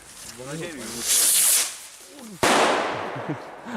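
A smoke ball firework gives a sharp pop, then a loud, steady hiss that rushes on for a couple of seconds, with voices talking before and after it, during New Year's Eve fireworks.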